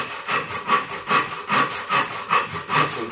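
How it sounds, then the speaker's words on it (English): Sandpaper rubbed over a wooden model boat makes a close, rhythmic back-and-forth rasp of about eight even strokes. "That's okay, we use a sandpaper."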